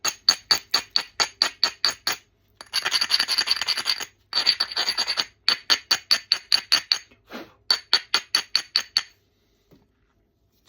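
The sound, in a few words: grinding seaside flint with a rock while knapping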